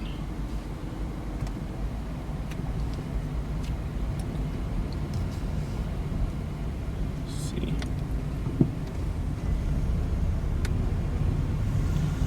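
A 2014 BMW 428i xDrive's turbo spools while driving in sport mode, a faint whine over steady, loud engine and road rumble, with a brief spoken remark.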